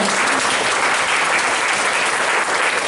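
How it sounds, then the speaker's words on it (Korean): A church congregation applauds loudly and continuously, a thick, even wash of many hands clapping at once with no pause. "우리 박수로 감사를 좀 표하도록 하겠습니다"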